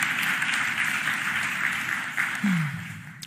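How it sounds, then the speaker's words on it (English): An audience applauds at a mayoral budget address in Philadelphia, a steady crowd clapping that rings on and slowly tapers off at the end, with a voice briefly audible under it. "Please give them a huge round of applause."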